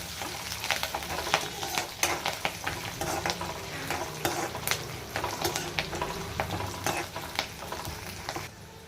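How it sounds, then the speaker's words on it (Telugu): Dried red chillies and curry leaves fry in hot tempering oil for tamarind pulihora, giving a steady close sizzle and crackle throughout, with frequent stirring scrapes and pops from the pan. "ఎండు మిరపకాయలు కరివేపాకు వీటన్నిటిని బాగా ఫ్రై చేసుకోవాలి"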